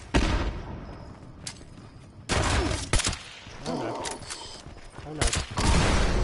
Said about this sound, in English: Let me throw a grenade at him